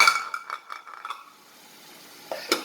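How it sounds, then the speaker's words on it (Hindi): A metal cooking pot lid clatters in a kitchen while beef karahi cooks, a quick series of ringing clinks and rattles settling down, followed by a brief metallic clank near the end. "ढक्कन गिर गया मेरे पास।"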